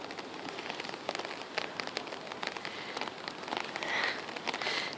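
Outdoor rain falls steadily on hard surfaces, a dense patter of close drops with occasional sharper splashes, alone and without voices.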